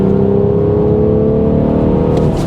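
Engine of a 2019 BMW 440i xDrive with a six-speed manual, heard from inside the cabin as a loud, steady droning hum. The pitch climbs slightly as it revs during an automatic rev-matched downshift.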